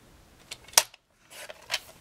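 Scissors cutting paper: a few short crisp snips, a sharp one near the start and another pair after a brief silence, close and quiet with no talking.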